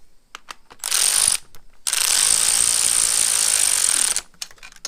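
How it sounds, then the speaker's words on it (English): An electric ratchet snugs down the spark plugs on a 2008 Subaru Impreza, running in two loud, steady whirring bursts of about half a second and over two seconds, with a short pause between them. "Now we'll take the handy dandy electric ratchet."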